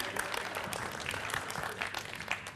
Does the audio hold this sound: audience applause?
yes